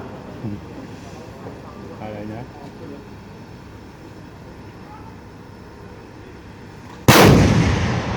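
An artillery cannon fires once in a military firing demonstration, a sudden loud boom late in the clip that decays slowly, after several seconds of quieter background with faint voices.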